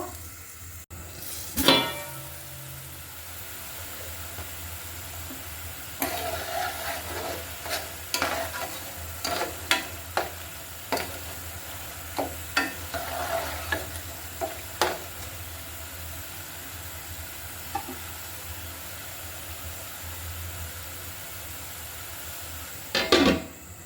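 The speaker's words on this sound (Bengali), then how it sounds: "ঢাকনা দিয়ে কিছুক্ষণ আমি এভাবে কষিয়ে নিব" Stinging catfish curry is stirred and cooked down in a pan, with a soft background sizzle broken by repeated scraping and clinking strokes, then a final clatter near the end.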